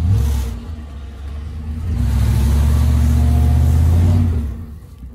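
A stuck truck's engine revs hard in a low, rumbling drone, swelling louder through the middle and easing off at the end while traction devices are being field tested, with no talk over it.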